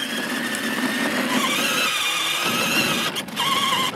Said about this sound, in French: Le bruit d'une moto électrique d'un enfant qui va à toute allure sur l'allée centrale.